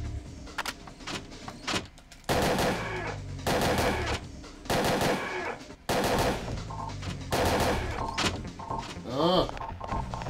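An M4A1 assault rifle firing in Parasite Eve 2, the PlayStation game, comes through as loud sustained automatic bursts with a few single shots between them, close and dense, and a voice speaks in places.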